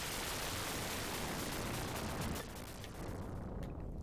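Bombs and gunfire from the arcade shoot-'em-up Thunder Cross, heard as a dense, continuous wash of explosive noise that thins out near the end, with no talk over it.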